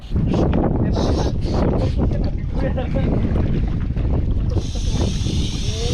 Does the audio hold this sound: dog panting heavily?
no